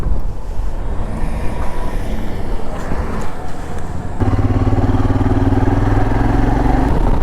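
A Royal Enfield Himalayan motorcycle cruises on the highway, its steady engine drone mixed with rushing wind noise, the low rumble thickening as it picks up speed partway through.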